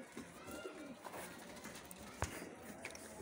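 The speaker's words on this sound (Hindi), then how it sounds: "ये भाई जान सियालकोटी कबूतर है" A Sialkoti high-flyer pigeon coos softly at a pigeon seller's loft in Lahore, a faint, low cooing amid background noise.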